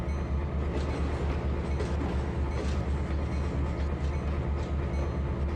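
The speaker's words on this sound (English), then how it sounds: "Whole lot of CSX boxcars. As I watch them go by" A long string of CSX boxcars rolls steadily past in the Trainz 2022 railroad simulator, a continuous rumbling with rhythmic clickety-clack of wheels over rail joints, close and unbroken.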